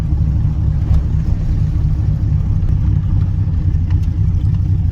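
A van with a swapped-in 6.0 LS V8 replacing its 305 drives along, its engine humming as a steady, loud low rumble close by, with no clear break from a gear change and no talking.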